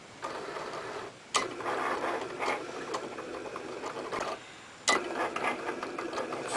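A Cricut or Silhouette cutting machine draws with a Bic Crystal pen. It makes a busy mechanical whirring and clattering in several bursts, broken by short pauses, close by and moderately quiet.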